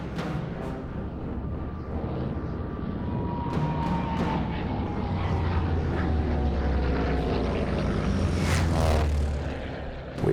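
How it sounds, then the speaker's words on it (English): World War II Junkers aircraft escorted by fighter planes in a film scene, a steady propeller engine roar with low rumble building and swelling toward the end, loud and continuous with no talk. "We have Hitler's arrival, where the Junkers are actually being escorted by the fighters."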